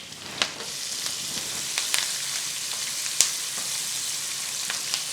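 Curry leaves and finely chopped onion fry in oil for vermicelli upma, a dense continuous sizzle with occasional sharp pops standing out, close and fairly loud, without speech.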